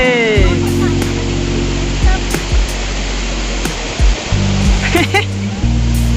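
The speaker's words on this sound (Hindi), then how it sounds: "अब इस झरने की सुंदरता को देखिए।" Khandadhar waterfall in Odisha roars as a constant loud rush of falling water, with a low engine hum early on and people's voices and short bursts of sound over the top.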